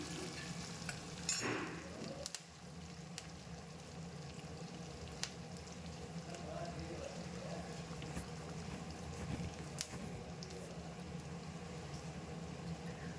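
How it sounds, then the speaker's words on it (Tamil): Curry leaves, garlic and onion fry in oil with a steady crackling sizzle, broken by occasional spoon scrapes and clinks against the pan, continuous and fairly close throughout. "கருவேப்பிலை பூண்டு எல்லாத்தையும் இதை நல்லா ஃப்ரை பண்ணி எடுத்துக்கலாம்"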